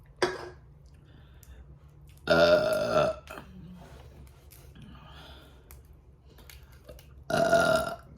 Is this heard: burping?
yes